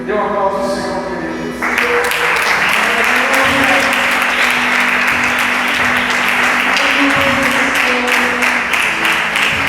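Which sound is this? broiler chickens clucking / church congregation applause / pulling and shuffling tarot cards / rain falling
church congregation applause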